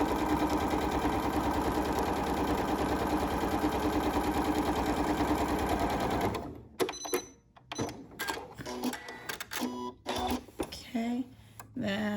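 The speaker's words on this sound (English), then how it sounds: "I'm just showing you how fast and easy this is to create your quilting stitches" A Janome MC9450 sewing machine runs fast while stitching quilting stitches, a continuous rapid whirring for about six seconds, then it stops and someone talks over light handling clicks.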